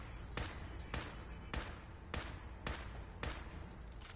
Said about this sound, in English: So I'm just going to slowly whittle his health down with this combat rifle.